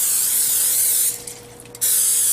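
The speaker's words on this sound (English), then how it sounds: "the 2 9-inch pans that will now be greased with Costco's very own Kirkland Signature cooking spray" Steady aerosol cooking spray hissing, close and continuous, greasing two 9-inch cake pans, pausing briefly before resuming.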